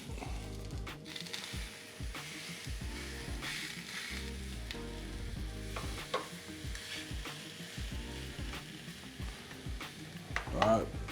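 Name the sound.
flat iron steak sizzling on Ninja Foodi Grill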